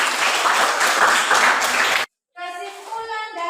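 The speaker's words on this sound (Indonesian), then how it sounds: "Bagus sekali, tepuk tangan untuk." Brief burst of classroom applause during a school lesson, dense clapping for about two seconds that cuts off abruptly, followed by a tonal, musical-sounding passage.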